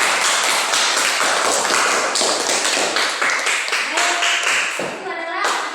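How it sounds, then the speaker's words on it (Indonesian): A classroom group applauding after a discussion, with dense, loud rapid clapping from many hands that fades slightly toward the end, and faint voices mixed in. "Tepuk tangan."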